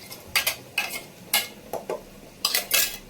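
A spoon stirs masala in a metal cooking pan, scraping in about seven sharp, uneven strokes that sound close and clear, with no voices.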